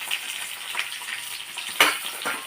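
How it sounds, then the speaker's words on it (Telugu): Dry red chillies and green chillies fry in oil for a coconut chutney tempering, a soft continuous sizzle with a few sharper crackles and pops standing out near the end, with no talking. "ఎండుమిరపకాయలుని పచ్చిమిరపకాయలు కలిపి వేపుతున్నానండి"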